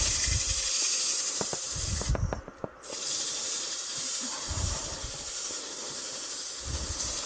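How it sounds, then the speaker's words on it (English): A wood lathe sanding a turned piece at about 700 RPM gives a steady broadband hiss, with low rumbling pulses and a brief dip partway through. "So I will go down to almost 700 RPM to sand a little bit"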